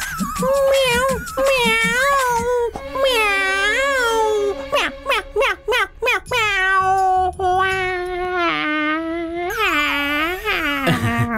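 A man mimics a cat with a long run of voiced meows, some drawn out and wavering, others short and choppy, loud and close, with a few spoken bits mixed in.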